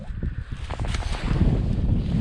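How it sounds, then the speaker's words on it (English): Strong wind gusts across a frozen lake while ice fishing in Northern Ontario, producing loud, steady buffeting and roaring with no pauses and no one talking. "Super windy out."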